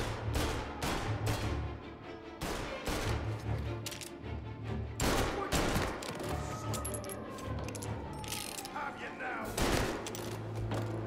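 Repeated gunfire bursts and single shots crack through a Mafia Definitive Edition gunfight set in 1938, close and loud over a steady low game score, with someone talking throughout.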